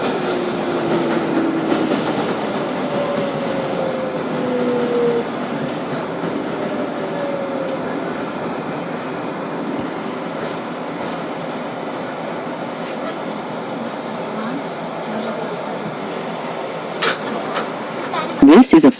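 A 2012 Kawasaki R-188 subway car on the 7 Flushing local rumbles steadily along the track with a continuous roar and rattling, squealing wheel tones and sharp clanks near the end, while a recorded announcement voice talks over it.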